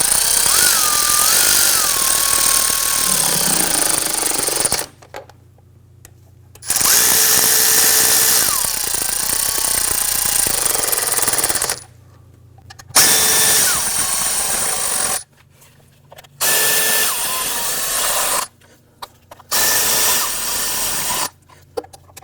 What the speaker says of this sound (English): now we're going to switch over to our power tool here